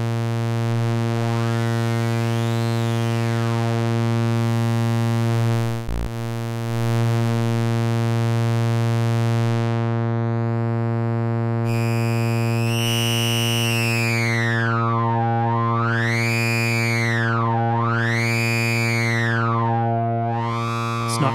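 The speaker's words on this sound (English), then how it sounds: "Jagged resonances add a lot of harmonic content to the original signal, and this is what gives inertia that characteristic distorted sound." Synthesizer filter with jagged harmonic resonance giving a distorted tone: a loud, buzzy sustained drone with a resonant peak that sweeps up and down in repeated swooping arcs, with no voices.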